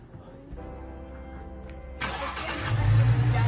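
A car engine cranks and catches partway through, then settles into a steady close rumble that grows slightly louder as the vehicle begins creeping off slowly, with faint background noise before the start.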